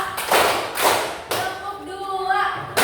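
A class of children clapping in unison during a school lesson, sharp group claps landing in a loose rhythm of about four strong beats, with a teacher's voice and children's voices talking between and over them.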